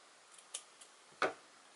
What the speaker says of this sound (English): you cut it